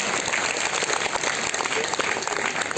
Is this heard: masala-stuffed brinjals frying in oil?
no